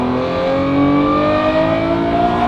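Lamborghini Revuelto with a Valvetronic Designs exhaust revs loud and close in a sustained high-pitched wail, its rising harmonic tone held for a couple of seconds.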